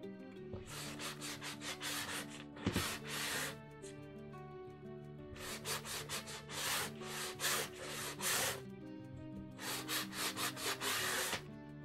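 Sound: sandpaper smoothing the edge of a wooden sign

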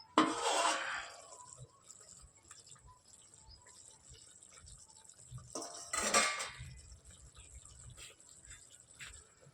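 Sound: covering cooking pot of garlic curry with lid

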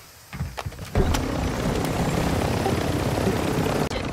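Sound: helicopter in a video game

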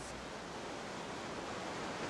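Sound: Great Falls waterfall of the Passaic River, Paterson

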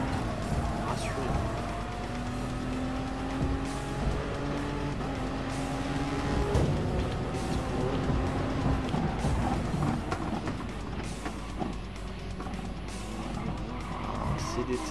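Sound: race car engine in Gran Turismo Sport video game

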